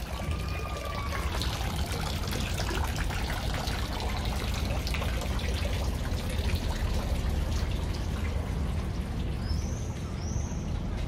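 Water trickles steadily from a town fountain in a historic Bavarian town, a continuous close splashing wash with a couple of faint bird chirps near the end.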